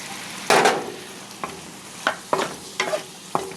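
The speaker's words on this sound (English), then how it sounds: "I'm going to throw in my my shrimp first. And then my meat." Shrimp and then beef hit a hot pan for Vietnamese crispy chow mein, giving a burst of sizzle followed by several short stirring and scraping strokes at an uneven rhythm, close and fairly loud with no talking.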